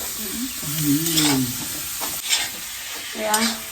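Mutton frying with masala in a pan while being stirred: a constant close sizzle with spatula scrapes and stirring bursts, a voice talking over it.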